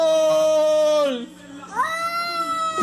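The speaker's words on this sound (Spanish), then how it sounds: "Un gato futbolero" A cat meows in long, loud, drawn-out wails, two stretched cries in a row, close and clear with a faint crowd murmur underneath.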